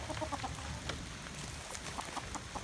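Chickens clucking in a hen house at feeding time, faint, soft busy clucks from a small flock heard at a distance against a steady background hiss.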